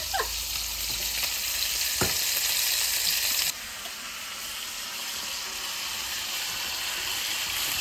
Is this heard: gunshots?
no